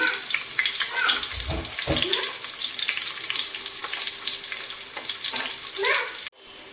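Onions crackling in a pan for a home-cooked non-veg dish, a loud, dense sizzle filling the whole stretch, with the scrape of stirring and a sudden drop in level at the very end.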